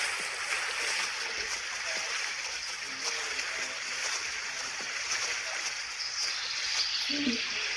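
A mare and her foal wade across water, sending up steady splashing and sloshing against a continuous rushing stream, at moderate distance and fairly faint.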